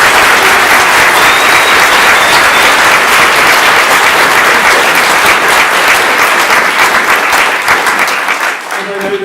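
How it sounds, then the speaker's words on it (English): Loud, sustained applause from a large audience, steady clapping throughout before tapering slightly at the end. "let's give Nicola a round of applause"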